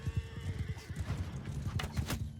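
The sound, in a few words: horse neighing and hooves, Mount and Blade 2 Bannerlord video game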